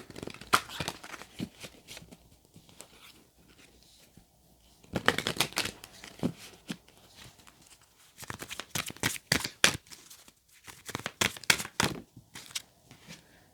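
Oracle cards are handled and shuffled up close, making papery riffling and flicking in several bursts separated by quieter gaps.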